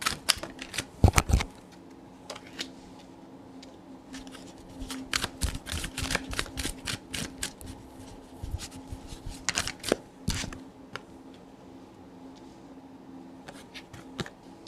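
Tarot cards being shuffled at close range come as bursts of crisp riffling and slapping, clustered in quick runs with short quiet gaps, in a quiet room.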